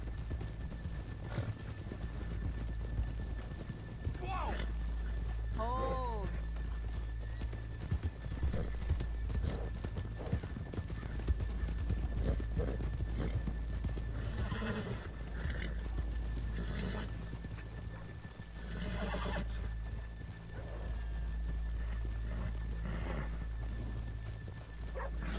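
Horse hooves clip-clop steadily at a trot in the video game Red Dead Redemption 2, with a horse whinnying briefly and faint barking in the distance over a low rumble.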